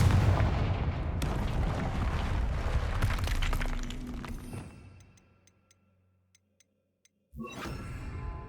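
Confringo blasting spell in the Hogwarts Legacy video game, a loud rumbling explosion with crumbling debris that fades into near silence with faint ticks, then a fresh burst of action at the end.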